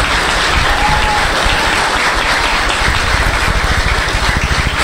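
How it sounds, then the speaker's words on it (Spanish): Loud, dense applause from a large crowd at a political rally, a steady unbroken roar of clapping that fills the whole stretch with no voices standing out. "Quiero que le demos un fuerte aplauso también."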